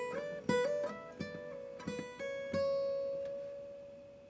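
An electric guitar plays a short country-rock lead lick from a song's solo, with several plucked notes and hammer-on slides ending on a sustained ringing note that slowly fades, quiet and with no voices.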